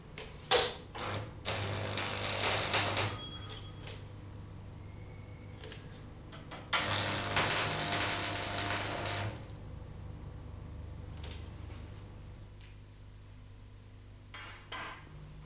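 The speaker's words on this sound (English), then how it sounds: "Tack weld one end as before." Arc welder tacking one end of two steel plates set about 2 mm apart, heard as two separate bursts of crackling sizzle, each a couple of seconds long, with scattered clicks and taps in between.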